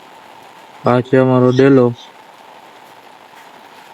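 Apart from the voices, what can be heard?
heavy rain falling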